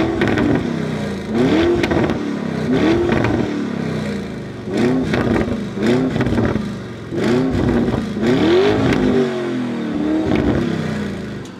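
A Lamborghini with an Akrapovic exhaust revs repeatedly, loud and close, each rising engine sweep ending in bursts of crackling pops, several rev cycles in steady succession with no talking.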